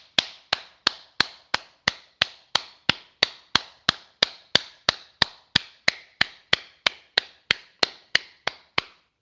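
A congregation at a night prayer novena to Our Lady of Perpetual Help claps in a steady, even rhythm to acclaim the Virgin Mary, sharp close claps repeating about three times a second with no voices over them.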